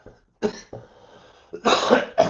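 A few harsh coughs from one person with a cold, nearby, separated by short pauses, with a throaty rasp between bursts.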